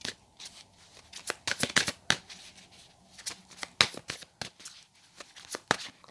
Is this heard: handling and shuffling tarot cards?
yes